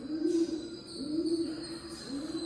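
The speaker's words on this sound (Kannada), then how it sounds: "ಈ ಪಾರಿವಾಳ ಎಲ್ಲೋ ಸೌಂಡ್ ಮಾಡ್ತಾ ಇದೆ." A few low, soft coos from a pigeon at a temple, spaced closely together, heard against faint background noise.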